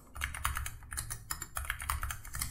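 Rapid typing on a computer keyboard while entering a password, close and clear, with bursts of keystrokes separated by brief pauses and no talking.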